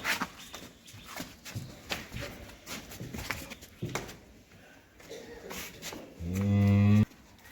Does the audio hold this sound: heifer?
yes